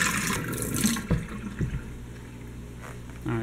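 Water splashes and gurgles as it is poured out of an Odyssea CFS500 canister filter from a turtle tank, strongest at first and then trailing off into drips and a trickle, close by.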